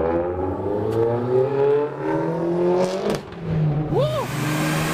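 A car engine at a tuning event revs under throttle, a steady loud drone whose pitch climbs and holds, with a brief swooping whine near the end.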